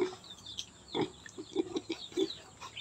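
Pigs on a farm grunt in short, irregular bursts just before their morning feeding, several close snorting grunts spread over three seconds against a quiet background.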